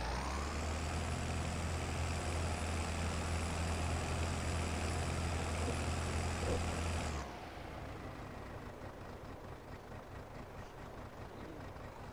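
A Belarus tractor with a V6 engine idles in Farming Simulator 22, a steady low rumble that drops abruptly in level partway through and continues more quietly with no talking.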